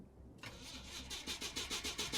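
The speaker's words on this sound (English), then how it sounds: "The engine cranks but never turns." A car engine cranking without catching, a rapid rhythmic whirring of the starter that pulses repeatedly for a couple of seconds, close and fairly quiet, with no voices.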